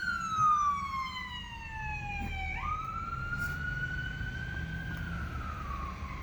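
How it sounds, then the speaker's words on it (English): An ambulance siren wails nearby, its pitch sliding down and then jumping back up as it passes, over low traffic rumble. "Here comes an ambulance."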